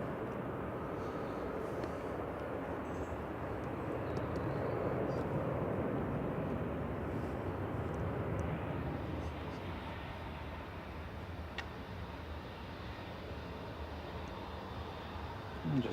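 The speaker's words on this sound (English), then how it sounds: "just touching down is Ryanair from Cologne" A Ryanair Boeing 737 MAX 8 from Cologne touches down at Manchester Airport, its engine noise a fairly faint, distant rumble that swells slightly midway and stays steady throughout.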